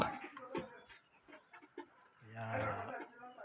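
Chickens cluck nearby in short bursts, with a voice heard alongside them.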